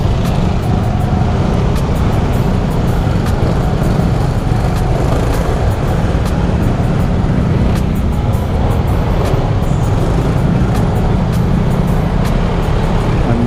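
Continuous road traffic with tricycles, a steady broadband rumble of passing engines on a busy street, loud and unbroken with no clear individual pass-bys.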